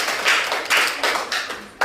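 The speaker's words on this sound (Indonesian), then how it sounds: "Kita berikan aplaus dulu." A class applauds after a group presentation with a short burst of clapping from many hands, fairly loud and close, rising and falling in quick waves.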